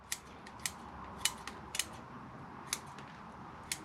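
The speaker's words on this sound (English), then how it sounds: "I am going to just trim some of these roots off" Scissors snipping the roots of a jade plant during potting, a series of sharp, close clicks spaced irregularly over a quiet background.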